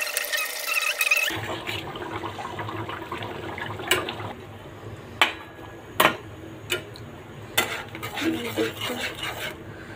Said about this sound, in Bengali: এখানে আমি 2 চামচ চিনি অ্যাড করবো। সুন্দর করে নেড়ে নেব।